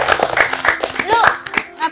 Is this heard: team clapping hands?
yes